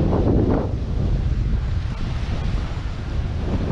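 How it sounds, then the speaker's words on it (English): Waves wash onto the beach at İçmeler near Marmaris, Turkey, as a steady rushing surf roar. Heavy wind buffets the microphone throughout, with no talk. "here we are then, the beach of İçmeler"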